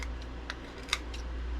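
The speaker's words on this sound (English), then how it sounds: "I'm going to trim off any of the sticker that is outside of our" Scissors trim the edge of a sticker, giving a few short, crisp snips close by, spaced irregularly over a low steady background hum, with no talking.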